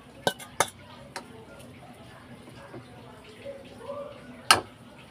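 Grated chili and olive go into a bowl for pickle: a few sharp clinks of utensils against the bowl, soft scraping and stirring, and one loud clatter near the end.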